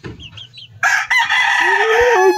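Small native chickens close by give a few soft clucks, then a loud, sustained rooster crow fills the rest of the clip.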